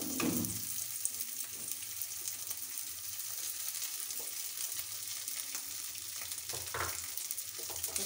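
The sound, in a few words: frying grated potato for fasting snack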